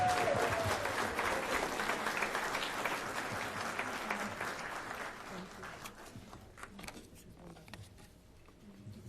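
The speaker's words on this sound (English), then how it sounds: "Please join me in a round of applause" An audience at a Jewish Federation anniversary celebration in New Jersey breaks into sustained applause, many hands clapping steadily and gradually fading over several seconds.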